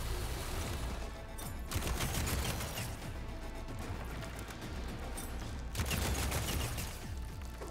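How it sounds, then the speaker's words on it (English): A bolt blaster fires in Horizon Forbidden West, letting out long rapid streams of crackling shots that pause briefly and then surge again, loud and close. "It is a bolt blaster."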